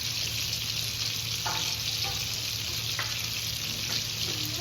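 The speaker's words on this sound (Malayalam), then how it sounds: "ചട്ടി ചൂടായിട്ടുണ്ട്. നമുക്ക് അതിനകത്തേക്ക് വെളിച്ചെണ്ണയോ ഓയിലോ ഒഴിച്ചു കൊടുക്കാം." Coconut oil heats in a hot pan, giving a steady, close sizzle and hiss with faint clicks of stirring, and no voice over it.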